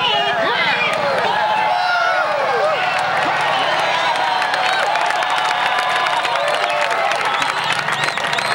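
Crowd at a Wheelie King stunt show, Doug Domokos's wheelie act, applauding and cheering steadily and loudly, with whistles and hubbub of voices throughout.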